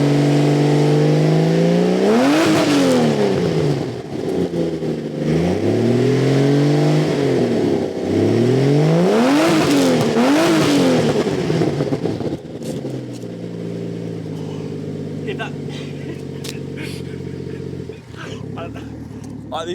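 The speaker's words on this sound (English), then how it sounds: "We'll hear the sound of the F6 first." F6 car engine fitted with a King Fish Tail exhaust, revving loudly in repeated rising and falling blips, then settling into a lower idle burble with faint clicks, heard nearby.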